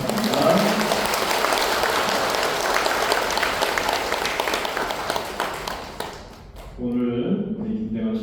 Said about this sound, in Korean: 뜨거운 감사의 박수 부탁합니다